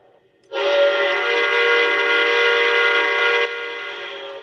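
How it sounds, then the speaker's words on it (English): A single sustained Lionel LionMaster model train whistle sound effect blares for about three seconds, a steady chord of tones that starts abruptly and cuts off cleanly, with quiet before it. "I really like the whistle on this one."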